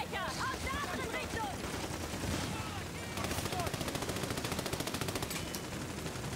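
Rapid automatic gunfire in the shooter Army of Two: The Devil's Cartel, a fast rattling burst of shots in the latter half following scattered earlier fire, mixed with game effects and voices.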